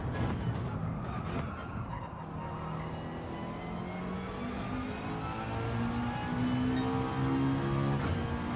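A race car in a racing video game brakes hard into a corner, its engine note dropping and tyres squealing in rising, wavering tones that grow louder toward the end, with no talk.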